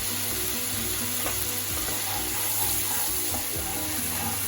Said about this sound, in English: let the masala fry for 2 minutes